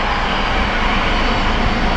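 Southwest airliner jet engines at Sky Harbor Airport, Arizona, giving a loud, steady, broadband roar that fills the whole short stretch without a break or any voices.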